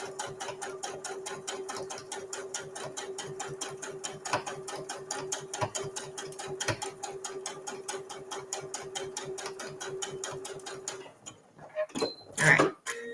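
A sewing machine top-stitches along the fold of a fabric visor tissue holder, a rapid steady run of close mechanical stitching that stops near the end, followed by a few clicks and handling noises.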